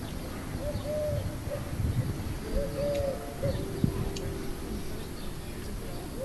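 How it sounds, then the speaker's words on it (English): Soft, low cooing from a wood pigeon some distance away, repeating in short phrases over a steady hum of outdoor background noise on a quiet summer day. "A wood pigeon was hooting exactly the same as yesterday."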